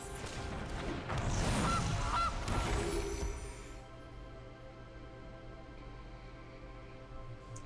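A goose in Magic: The Gathering Arena gives a loud, brief burst of harsh honking, followed by quieter game ambience with a soft sustained tone.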